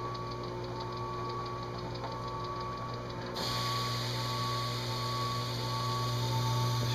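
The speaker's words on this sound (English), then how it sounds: "High speed machining. I'm sorry, high speed engine turning." High-speed engine-turning machine working a 1929 car dash insert, a steady mechanical whir with a rapid repeating tick that steps up to a louder, brighter drone partway through, continuous and close with no talking.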